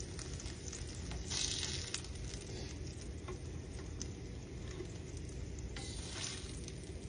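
Steady, quiet sizzling of cheesy smashed tacos frying in a pan, with faint crackles and pops throughout and no voices.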